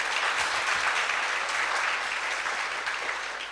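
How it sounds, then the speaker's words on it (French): Audience applause for a panel at a conference event, dense and steady clapping throughout that fades slightly toward the end. "Est-ce qu'on peut applaudir encore plus fort pour notre panel?"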